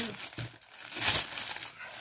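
A plastic bag crinkles and rustles close by as a wrapped canvas is pulled out of it, a continuous crackling with a sharper burst midway and speech-like sounds mixed in.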